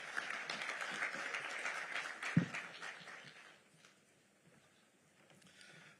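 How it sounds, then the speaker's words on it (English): A conference audience applauds after a presentation, a fairly faint, even patter of clapping that fades out midway and leaves quiet room tone. "Another round of applause for Mr."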